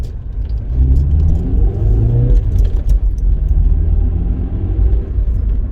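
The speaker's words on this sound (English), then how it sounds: "with this car, the throttle response, the pickup, happens very, very well over 2000 RPM" A Rover car engine rumbles and rises in pitch as it accelerates past 2000 RPM, a steady low drone heard from inside the vehicle.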